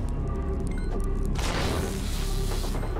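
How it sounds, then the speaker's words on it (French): A micro-bomb goes off in Oddworld Soulstorm, a loud dense blast that rolls into a sustained crackling rumble over the game's constant background din. "Putain, c'est une micro-bombe"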